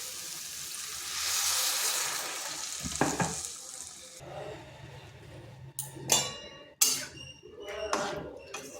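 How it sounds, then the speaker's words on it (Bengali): Water added to drumstick-leaf dal frying in a pan: a bright sizzle gives way to a splash and hissing burst, followed by quieter bubbling and a few close metallic clinks of stirring. "এরপর এখানে দেব জল।"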